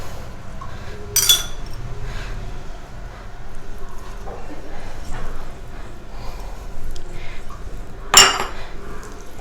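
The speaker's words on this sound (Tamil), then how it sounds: "தேங்காய் துருவல் சேர்த்து நல்லா மிக்ஸ் பண்ணிக்கலாம்." Banana stem adai batter mixed with grated coconut in a metal vessel, a spoon clinking and scraping against the bowl with two sharp knocks standing out over quieter stirring.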